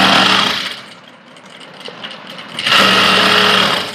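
A sewing machine stitches a cloth grocery bag in two loud, close bursts of rapid whirring, with a quieter lull between them.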